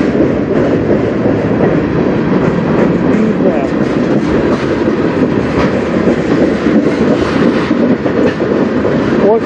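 A CN manifest freight train hauled by CN locomotives rolls past on the Strathroy Subdivision, loud and close, with continuous rumble and rhythmic wheel clatter over the rails throughout.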